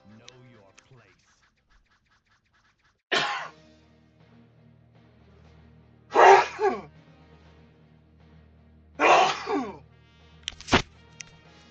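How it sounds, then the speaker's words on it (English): A sharp single sneeze bursts out near the microphone during a quiet live stream, followed by two more similar explosive sneezes or sniffs and a brief click, with faint talk at the start. "I'm sorry, I just sneezed."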